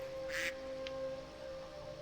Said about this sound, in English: The goose chick.